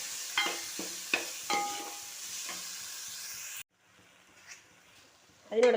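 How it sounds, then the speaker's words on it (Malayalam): Onion, tomato, garlic and ginger sauté in hot oil with mustard seeds, giving a steady close sizzle punctuated by sharp scraping strokes of a spoon; the frying stops abruptly, leaving a quieter room with a brief clatter. "കടുക് വറുത്തിട്ട് വഴറ്റുകയാണ്."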